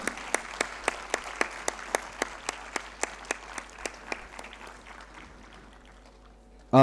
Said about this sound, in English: A huge round of applause once again to all the award winners.